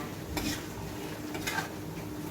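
Fish being stir-fried in a pan in a rural home kitchen, with a steady low sizzle and two brief scraping stirs of the spatula against the pan.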